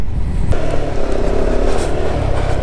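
A 390 Adventure motorcycle engine runs close and loud with a rough, throbbing idle that rises slightly in pitch as it revs, alone without voices.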